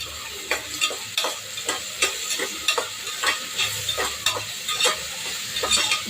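Onion and tomato sautéing in a pan hiss steadily up close while a spatula scrapes and taps in a quick, regular rhythm throughout, with no voices.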